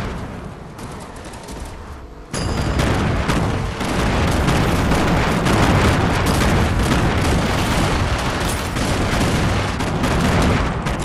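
Gunfire in the video game Fortnite, loud dense bursts of shots and booms that start abruptly and continue nearly without pause, with no talk over them.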